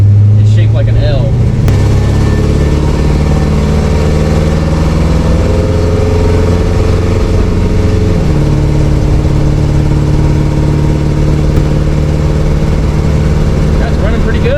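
A 1955 station wagon's engine hums loudly and steadily while driving, its pitch shifting as it accelerates, with a voice talking over the drone.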